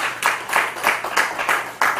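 A short burst of audience clapping at a Buddhist dharma service in Cheongju, South Korea, several claps in quick rhythm from a small crowd, moderately loud.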